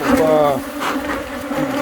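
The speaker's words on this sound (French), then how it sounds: "les abeilles sont dans les hausses" Honey bees buzzing in the supers of a hive during inspection, a dense, close, wavering drone that swells and dips continuously, with a voice briefly underneath.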